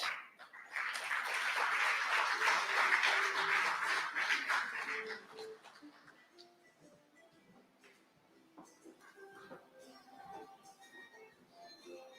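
A crowd at an agreement signing ceremony claps for about four seconds, loud and dense, then fades into scattered murmurs and room noise.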